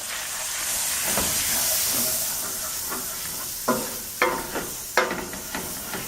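Flour being stirred into browned sausage gravy in a pan, a steady steamy hiss and sizzle broken by several sharp scraping strokes of the spoon toward the end, close and moderately loud with no talking.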